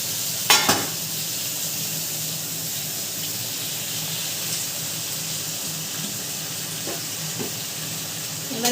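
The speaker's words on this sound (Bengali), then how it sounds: "এবারে ভালো করে কষাবো" Pre-fried vegetables with ginger paste sautéing in hot oil, a continuous even sizzle with a couple of sharp spatula knocks near the start and a few softer stirs later.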